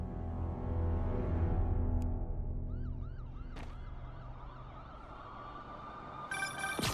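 Police sirens wail from the Marvel's Spider-Man Remastered video game, rising and falling warbles layered over a dense city background rumble, with a sharp tone burst near the end.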